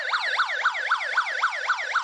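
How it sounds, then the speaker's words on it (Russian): A 9561 sound signal module plays its fire alarm tone through a small speaker: a continuous electronic siren that sweeps up and down in pitch about four times a second, steady and moderately loud with no voices. "это звук пожарной сигнализации"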